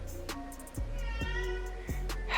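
A pet cat named Herschel meows indoors, a few short, close calls over a low steady background hum.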